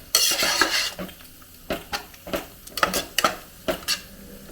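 A ground coconut-tomato paste goes into a pot for ghee rice gravy, followed by a close spoon scraping and clinking against the metal pot in irregular stirring strokes with a faint sizzle.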